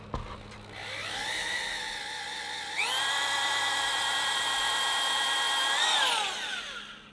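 A power drill bores slowly and carefully through the hard lead keel of a wooden boat, a loud continuous whine that rises in pitch partway through and holds before easing off at the end.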